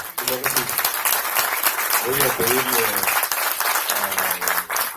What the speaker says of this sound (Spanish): Un aplauso para don Enrique González Ruiz.